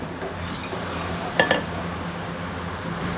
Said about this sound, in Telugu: మెల్లిమెల్లిగా వేసుకుంటూ ఆయిల్లో మొత్తం కలిసే వరకు పప్పుని కలుపుకోవాలి